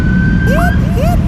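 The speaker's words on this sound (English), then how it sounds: "That's the sound of the police." A wailing siren sweeps up and down in repeated rising swoops, fairly close and loud, with a steady tone and some voice underneath.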